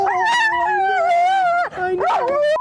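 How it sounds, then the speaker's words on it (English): A dog aboard a 1983 Toyota motorhome howls and yips loudly and close, long wavering whines rising and falling with a brief break before another yelping howl. "Now, who's the dog here?"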